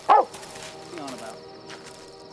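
A single dog bark rings out sharply at the start, set in England's Lake District during a wartime manhunt. Quieter sounds and a voice follow underneath.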